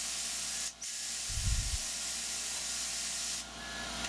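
Compressed air blows metal chips off while drilling an AR15 high-rail gas block, a continuous loud spray hiss that briefly cuts out twice, with a short low rumble in the middle.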